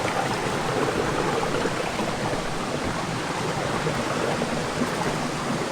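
A river stream in the Guadeloupe jungle, crossed along a trail race, flows with a steady, dense rushing wash that stays constant and fairly loud throughout, with no voices.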